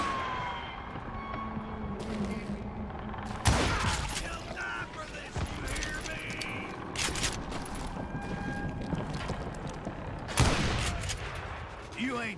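Gunfire in the Western shooter game Call of Juarez Gunslinger: sharp gunshots stand out twice over a busy game soundscape with a rising and falling siren-like whine, voices mixed in.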